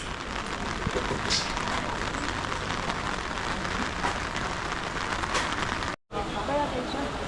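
Rain falling on a busy street near Asakusa temple in Tokyo, a steady hiss with scattered drops and crowd bustle, with a brief break near the end.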